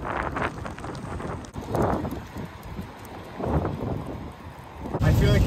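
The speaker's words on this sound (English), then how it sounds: "I feel like it's raining even more than earlier now" Rain and gusty wind at night by a beach while truck camping in winter, a steady broadband wash with buffeting gusts on the microphone and a louder burst near the end.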